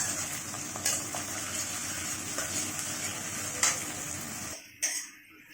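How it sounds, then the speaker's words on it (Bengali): Sliced onions fry in hot oil with whole garam masala in a pan, a soft steady sizzle broken by a few sharp clinks of the spatula, then the sizzle drops away near the end. "তারপর পেঁয়াজগুলো এবার ভালো করে ভেজে নিচ্ছি"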